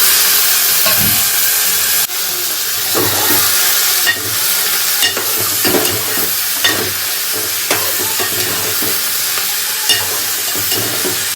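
Potatoes and cauliflower fry in a pan with a steady close sizzle and hiss, broken by repeated stirring scrapes and clinks throughout, with no talking.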